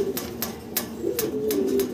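Pigeons coo repeatedly at an indoor fancy-pigeon exhibition where jet-black birds are on show, with low rolling calls running under a series of sharp flutters or wingbeat bursts, close and steady throughout.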